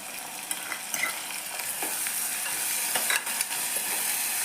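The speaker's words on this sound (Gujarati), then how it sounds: "ટામેટાને સારી રીતે સાતરી લેવાના છે એકદમ નરમ પડી જાય ત્યાં સુધી એને સાતરવાના છે" Chopped tomatoes sauté in a pan with garlic and cumin for a tuvar and brinjal vegetable dish. A steady close sizzle runs throughout, broken by repeated scraping stirs of a spoon.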